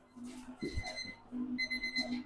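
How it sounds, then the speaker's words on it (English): A kitchen timer beeps in steady electronic tones, heard fairly faintly in a quiet room with a brief clatter mixed in. "Timer."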